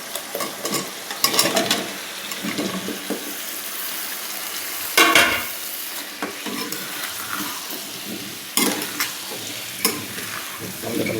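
Fish and taro stolons are stirred in a frying pan with steady sizzling and repeated scraping strokes, with a few louder clatters of the utensil against the pan.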